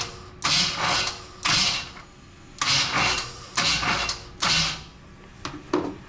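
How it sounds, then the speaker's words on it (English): A starter needing shimming cranks the Vortec 350 V8 of a 1980 El Camino in six rough, grinding bursts separated by short pauses, loud and close, with no voices. "It's going to be loud because that starter needs to be shimmed."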